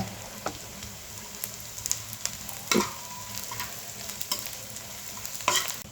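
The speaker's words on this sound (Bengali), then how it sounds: "পেঁয়াজ ব্রাউন হয়ে আসা পর্যন্ত নেড়ে চেড়ে ভেজে নেব" Onions, dried chillies and cumin frying in a pan for aloo tomato bhorta, a soft steady sizzle broken by scattered clicks and scrapes from stirring, close up with no voices.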